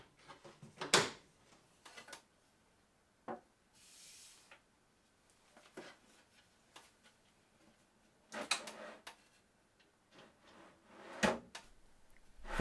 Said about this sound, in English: I can then click in the door and test to see if the assembly works.